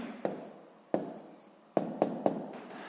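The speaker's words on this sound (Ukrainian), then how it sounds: "Ну що ж, записуємо відповідь." Pen strokes scratch on paper as a math answer is written by hand, several short quiet scrapes and taps spaced irregularly, close and alone without talk.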